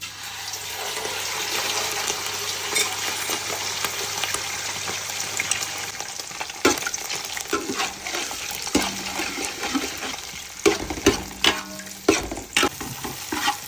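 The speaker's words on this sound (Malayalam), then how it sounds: "അപ്പോൾ എണ്ണയൊക്കെ ചൂടായി നമ്മൾ എഗ്ഗ് വെച്ച് കൊടുക്കും" Beaten eggs fry in hot oil for egg fried rice, starting as a loud, dense sizzle and turning into busier clattering stirring and scraping in the pan toward the end.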